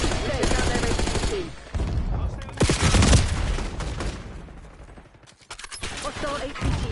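Bursts of automatic gunfire crackle in a Call of Duty Black Ops 6 multiplayer match on the Babylon map, loud and close, with brief lulls between volleys and game voice lines mixed in.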